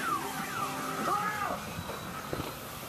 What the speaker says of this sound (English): Oops, set off car alarm.